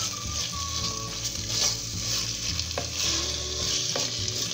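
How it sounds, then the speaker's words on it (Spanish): Beef being stirred into a frying seasoning base in a pan for Peruvian olluquito con carne, giving a steady sizzle with scraping stir strokes and a few sharp utensil clicks, close and continuous, no talk. "Ahí vamos a mezclar nuestra carne con el aderezo que ya estábamos haciendo."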